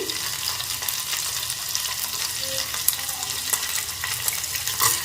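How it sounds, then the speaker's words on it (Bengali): Finely chopped onion for tomato soup sizzling in a hot pan as it is stirred, a dense continuous frying hiss with occasional spatula scrapes, close and fairly loud. "একটা ছোট সাইজের পেঁয়াজ কুচি করে নিয়েছি একটু নেড়ে চেড়ে ভেজে নিচ্ছি"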